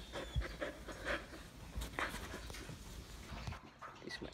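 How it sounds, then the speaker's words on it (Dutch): A small puppy panting in quick, rhythmic breaths close by, with faint whimpering sounds mixed in and no talking. "Dit is mijn eigen kleine puppy."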